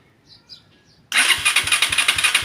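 A motorcycle with a CDI ignition that is hard to start and reportedly stalls when hot catches after about a second of near silence with faint birdsong, then runs loud and close with a rough, pulsing idle.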